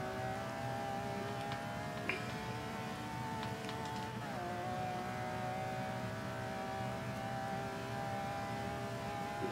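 A Ferrari GTO in the racing game Forza 5 drones steadily at high revs, its engine note shifting pitch briefly as it accelerates, loud and continuous with no talk.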